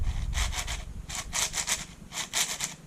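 A 5x6x7 brick cuboid twisty puzzle being turned, its many plastic pieces gliding over one another in short rasping bursts, three quick clusters of scraping clicks close to the microphone.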